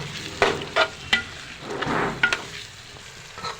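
A spoon stirs coriander masala and spices in a frying pan for mutton biryani, giving several sharp scrapes and clacks over a soft sizzle, with no talking.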